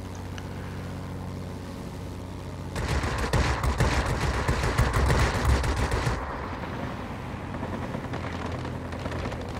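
La-5 fighter plane machine guns fire a dense burst of about three seconds over the steady drone of the aircraft engine in World of Warplanes, loud and close, with a brief spoken word near the start.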